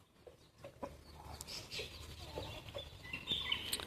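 Backyard hens, including a newly added one, scratching about in a dirt pit, giving soft scattered clucks and a few brief chirps, faint and a little distant, with no talking.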